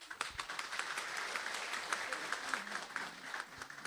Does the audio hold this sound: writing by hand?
no